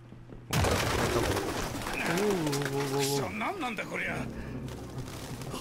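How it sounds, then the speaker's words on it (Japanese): Crowd of pigeons cooing in a city scene of the video game Detroit: Become Human, low warbling calls overlapping under steady talk and game ambience. "鳩がいっぱい、めっちゃいっぱいおる"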